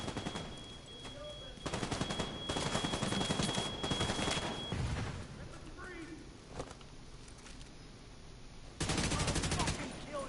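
Gunfire in The Division 2, several sustained automatic bursts separated by quieter gaps, with a voice speaking briefly between the volleys.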